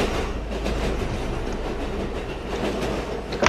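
A train rolls past in the Roblox game, a steady loud rumble with clickety-clack wheel rhythm filling the whole stretch alone.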